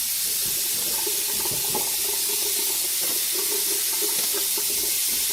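Lukewarm tap water runs steadily from a faucet as a face is rinsed during an evening skincare routine, a continuous close hiss and splash with no voices.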